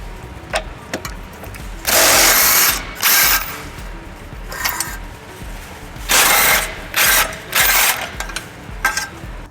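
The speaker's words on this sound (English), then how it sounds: "using a 17mm socket, we're gonna remove 2 bolts holding the tow hook" A socket ratchet on a 17mm socket takes out the tow hook bolts of a 2017 Toyota Highlander. Several loud bursts of ratcheting clatter alternate with quieter clicks and handling noise, close up.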